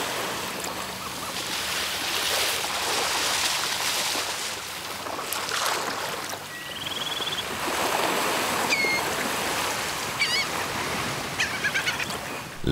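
Rising tide water washes and rushes steadily over a shallow beach in a continuous broadband wash, with a few bird calls faintly above it and no talk.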